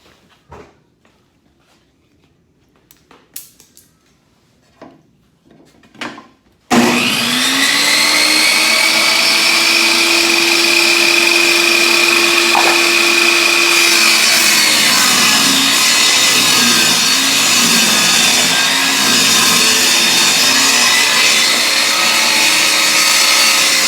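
Table saw starting up loud after a few quiet knocks, then a steady high whine as it rips through boards, running continuously and close for the rest of the cut.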